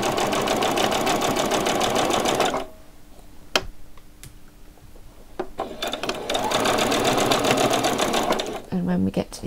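A sewing machine runs a fast, steady whirring stitch along a frilled top, stops for a few seconds while a voice speaks, then resumes stitching back and forth near the end.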